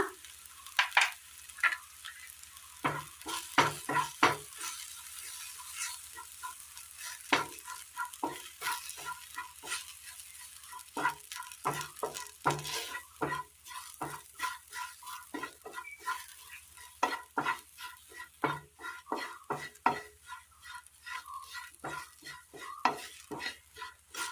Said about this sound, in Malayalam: മസാലയെല്ലാം നന്നായി മൂത്ത് വന്നിട്ടുണ്ട്.